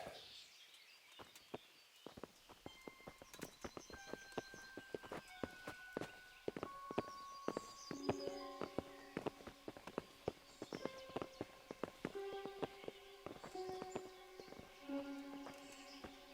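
Horses walk in the medieval game Kingdom Come: Deliverance, their hooves clip-clopping in an uneven, overlapping rhythm at moderate distance, with brief tonal game sounds and faint birds in the background.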